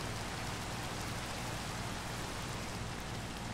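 Steady, dense rain falls in Minecraft, a continuous even hiss of drops filling the scene from start to end with no pauses.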